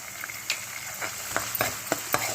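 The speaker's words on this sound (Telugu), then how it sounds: "పసుపు వేసుకుని చక్కగా ఇలా వేయించాలి." Green chillies and onions with turmeric frying in hot oil over high heat, a steady close sizzle broken by several sharp scraping strokes of a stirring spoon against the pan.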